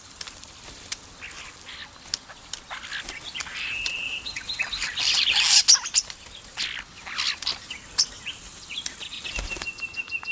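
Starlings anting, brushing ants against their feathers outdoors, give faint chirps and brief wing flutters, with scattered soft rustles and one louder burst of flapping midway.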